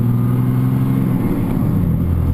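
A 6.2L Cummins diesel engine accelerating with its turbo fully open, giving a loud, steady, close-up drone with a deep low rumble that holds throughout.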